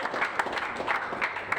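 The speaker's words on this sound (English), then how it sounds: "we must give our biggest cheer for West Yorkshire" Audience applauding West Yorkshire's junior county team at a final, a steady patter of clapping from a crowd at moderate distance.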